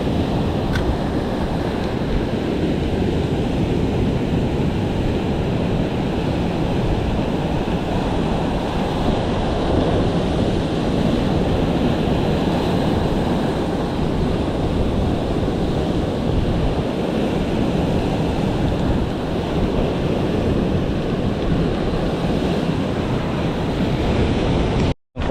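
Sea waves and strong wind roar steadily around a small fishing boat out on open water, a loud continuous wash with heavy wind buffeting the microphone and no speech.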